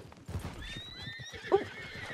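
A horse in Red Dead Online gives a short whinny alongside hoof clip-clops, a brief game sound with no talk over it.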